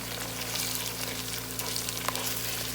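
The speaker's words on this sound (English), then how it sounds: "We're gonna fry this tomato paste down" Tomato paste frying down in a pot for jollof rice, a continuous dense sizzle and crackle with a low steady hum beneath, close and even for the whole stretch, with no voices.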